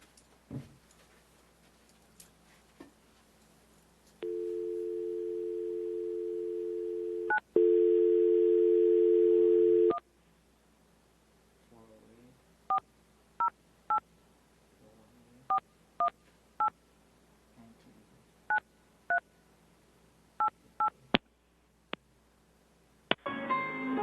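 A telephone line dialing into a WebEx conference call: a steady dial tone sounds, a second tone follows, then a series of short, evenly spaced DTMF keypad beeps, quiet and clear.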